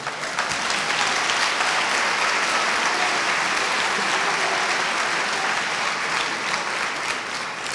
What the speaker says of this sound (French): comme monsieur Yvan Sage, présent aujourd'hui, qu'on peut applaudir